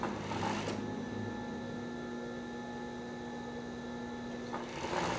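A sewing machine hums steadily at close range while stitching the back seams of a two-color swimsuit, with a brief faster run at the start and end.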